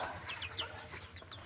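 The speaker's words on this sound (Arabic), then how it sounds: "ام احمد جايبه فراخ وبط" Domestic chickens cluck softly in a poultry brooding area prepared for chicks and ducklings, giving a few short, faint calls in a quiet space with no one talking.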